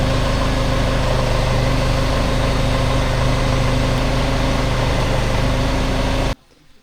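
An electric motor on a homemade leaf shredder hums loud and steady with a strong, even drone, then cuts off abruptly near the end.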